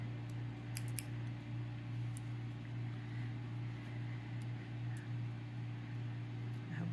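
Scissors snip a few times, faint and close, trimming fabric for a brown scapular over a steady low hum that fills the room throughout.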